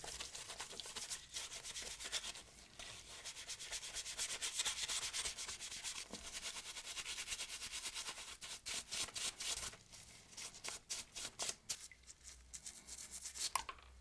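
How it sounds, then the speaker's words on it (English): Soapy little plastic buttons and pieces are scrubbed by hand with a brush, giving close, steady rubbing strokes that later break into a choppy series of short scrubs. "Some of these little plastic buttons and pieces, when they're soaped up, are a little hard to hold on to while scrubbing"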